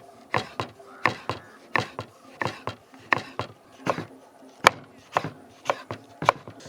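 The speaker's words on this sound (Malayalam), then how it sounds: "പിന്നെ നമുക്ക് നമ്മുടെ മാങ്ങ നീളത്തിൽ അരിഞ്ഞെടുക്കണം കേട്ടോ." Green mango sliced lengthwise with a knife on a board, giving a steady run of about sixteen sharp, evenly paced chops close by with no talking.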